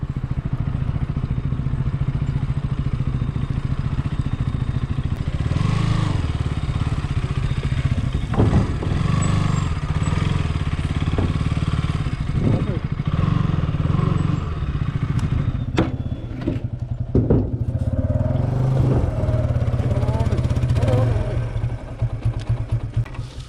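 A motorcycle engine idles steadily while the bike is ferried across water on a small wooden boat in Kerala, with scattered clatters and thumps over the continuous mid-pitched hum.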